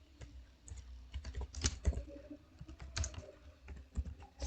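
Keys clatter on a computer keyboard while data is entered into SPSS statistics software, a steady run of light, irregular taps at close range with no voices.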